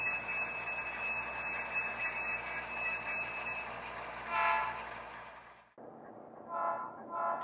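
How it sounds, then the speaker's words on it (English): An HO scale model Alco T6 switcher locomotive pulls a couple of cars off a transfer bridge on a layout, giving a steady close motor hum and rolling rumble with a sustained horn-like tone, then cutting quieter toward the end. "he's pulling a couple of cars out of the transfer bridge there"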